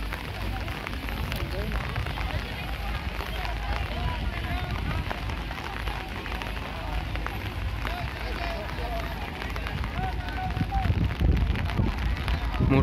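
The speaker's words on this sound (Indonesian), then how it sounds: "Kondisi pas lagi kondisi hujan ya seperti ini ya." Rain falls outdoors near a gathering before a religious talk, a steady dense hiss of drops with people talking and moving underneath, growing slightly louder toward the end.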